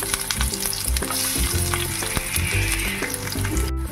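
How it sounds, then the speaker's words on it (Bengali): Chopped garlic fries in a pan with bay leaves and green chillies for a prawn dish, giving a steady, close sizzle with crackling pops and faint rhythmic low knocks of stirring throughout. "রসুনগুলো হালকা একটু ভাজা ভাজা করে নিয়ে"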